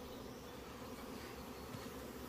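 Hornets drone around beehives in a dense, continuous buzz that stays steady and moderately close throughout, with no talking.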